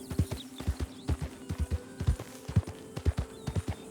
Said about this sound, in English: And that is our favorite horse.